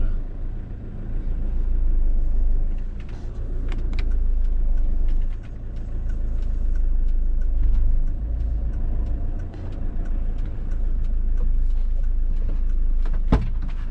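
A vehicle being driven and pulled over to the side of the road, its low engine rumble steady throughout, with brief knocks and clicks over the top.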